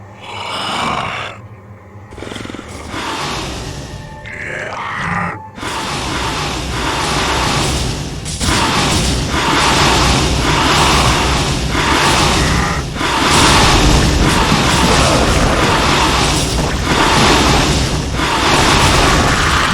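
Explosions and heavy booms boom out as a Zerg hive cluster comes under attack in StarCraft: Brood War Remastered. A few sharp blasts give way to a dense, continuous rumble of repeated loud detonations.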